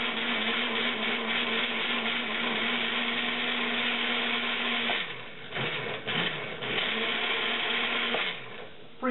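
A motorized food chopper whirs steadily as it chops salsa, its loud mechanical hum briefly stopping and restarting in short pulses near the end.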